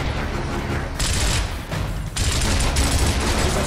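Gears of War gunfire, a continuous dense crackle of shots in loud bursts that briefly dip and resume.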